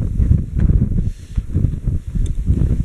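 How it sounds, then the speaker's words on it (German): Gusty wind buffeting the microphone on an exposed stretch of a Volkslauf running race course near Kreuzweingarten, a steady low rumble that rises and dips in uneven gusts throughout. "Ich erwähnte, dass es heute ziemlich windig ist, aber das hat man jetzt nur hier oben auf dem Stück."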